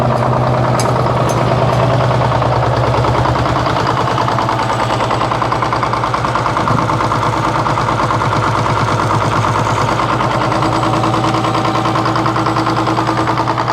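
A tractor engine runs steadily with the power takeoff engaged, a loud, close diesel idle with a constant rhythmic knock and low drone, unchanging across the whole stretch with no voices.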